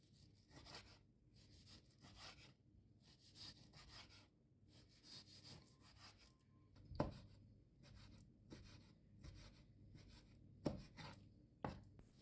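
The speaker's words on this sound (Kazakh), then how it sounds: "Тауық етінде төртбұрыштап турап аламыз." A kitchen knife chops raw chicken meat into cubes on a board, a quick, uneven run of close, crisp taps and scraping strokes with a few sharper knocks, no voices.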